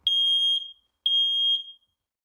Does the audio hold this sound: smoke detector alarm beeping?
yes